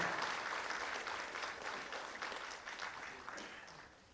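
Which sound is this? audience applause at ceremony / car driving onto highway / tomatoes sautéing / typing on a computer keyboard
audience applause at ceremony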